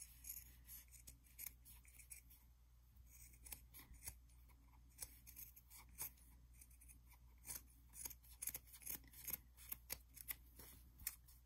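Scissors trimming fabric around a small paper-pieced heart, quiet close snips in uneven clusters that grow more frequent toward the end.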